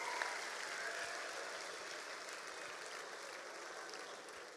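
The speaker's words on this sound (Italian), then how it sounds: "Fatevi ancora un applauso così" A crowd claps steadily at a live outdoor concert with a DJ performing. The broad wash of applause is fairly distant and gradually fades a little toward the end, and no one speaks.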